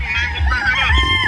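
Backyard chickens in San Fernando, Cebu: a rooster crows loudly and close by in a drawn-out, wavering call, with lower clucking and fowl noises beneath it.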